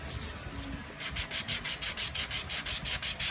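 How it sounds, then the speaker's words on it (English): Hand sanding of auto body filler during final sanding of car bodywork, a steady rhythmic back-and-forth rasp of about a dozen strokes, close and fairly loud, starting after a quieter second. "when you're doing your final sanding"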